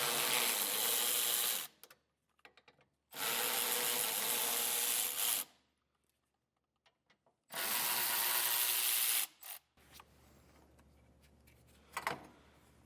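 A ratchet turning a 10mm socket to remove bracket bolts for a base plate kit on a 2022 GMC, heard as three long, steady bursts of rapid clicking separated by quiet pauses, followed by a few faint isolated clicks; no one speaks.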